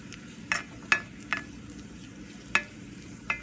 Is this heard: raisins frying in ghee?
yes